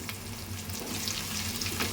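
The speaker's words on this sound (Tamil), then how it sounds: "இது வதக்கிட்டே இருங்க." Onions sautéing over a medium flame in a pan for a Tamil fenugreek (vendhaya) curry give a steady, moderately loud sizzle with faint stirring scrapes throughout, no voices.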